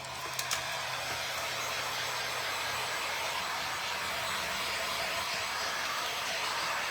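A hair dryer blows on a wet decoupage wood tray, a loud, steady, close whooshing roar of air that runs unbroken throughout, with no talking.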